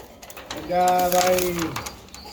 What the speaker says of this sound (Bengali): এটাও ডাকি কে মাদি হালকা একটু ডাকে